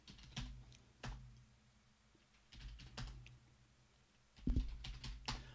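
Computer keyboard typing of a command to log into another machine, bursts of quick close keystrokes separated by pauses, quiet and alone.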